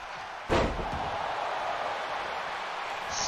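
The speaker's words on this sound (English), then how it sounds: "Slammed by Grimes" A wrestler is slammed onto the ring mat during a wrestling match, landing with a single loud, booming thud. A steady crowd murmur carries on underneath afterward.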